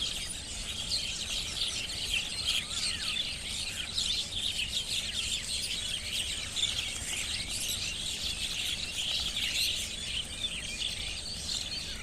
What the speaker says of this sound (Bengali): কত শালিক দেখতে পাচ্ছ তোমরা?